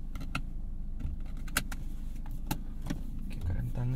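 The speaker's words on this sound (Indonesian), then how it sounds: "Pasang seatbelt dulu." Inside a 2015 BMW 320i M Sport F30, a seatbelt is pulled and fastened with a few sharp clicks and rattles over a quiet cabin hum, followed by a brief mechanical whir.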